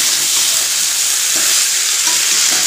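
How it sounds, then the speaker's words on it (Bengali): Masala for a bottle gourd curry sizzles and fries steadily in a pan while being stirred, a loud, close, continuous hiss with faint scraping strokes of the spoon now and then. "যতক্ষণ না মশলার কাঁচা গন্ধ ছাড় যাবে আর কি, ততক্ষণ ধরে ভালো করে কষাতে হবে।"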